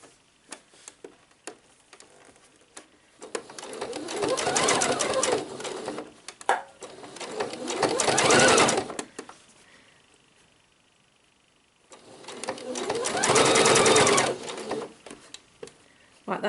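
A sewing machine stitches a shirring elastic summer dress in two long, steady runs of fast rhythmic clatter, close and loud, separated by a pause, with light handling sounds in between.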